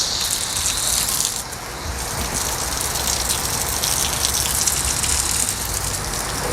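A Wet & Forget Xtream Reach hose-end sprayer set to plain water gives a steady, close, loud hiss and gush of spray that runs without a break, with no voices over it.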